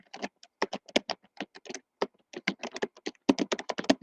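Rapid, uneven clicking of keys on a computer keyboard, close and clear, bursts of taps with short pauses, no voice over it.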